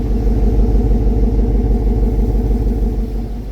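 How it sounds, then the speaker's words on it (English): A Ford Mustang GT S650 V8 idles close up with a deep, even, pulsing burble, loud and steady for a few seconds before dropping slightly near the end. "And this is the car at idle."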